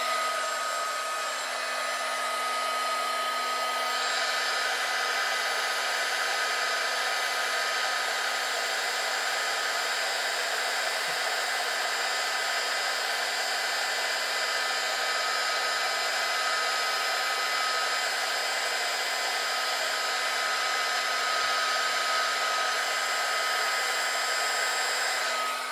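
A mini heat gun used for heat shrinking runs with a steady, loud blowing whir and high fan whine, close and unbroken throughout, with no talking.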